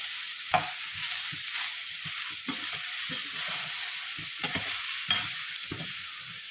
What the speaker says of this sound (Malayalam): ഇനി ഉപ്പും വെണ്ടയ്ക്കായും പച്ചമുളകും എല്ലാം കൂടി ഒന്ന് ഇളക്കി നമുക്ക് യോജിപ്പിക്കാം